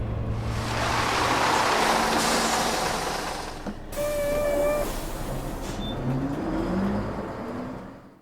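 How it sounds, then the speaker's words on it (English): A bus engine hums steadily as the vehicle motors uphill toward a school in Spirit Hunter: Death Mark II, a continuous low drone with a brief shift midway and no voices. "The hum and gentle vibrations of the engine lull my weary self to sleep."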